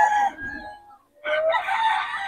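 A young Sweater-bloodline gamefowl rooster crows loudly and close by, one drawn-out call broken by a brief pause before a strong final stretch.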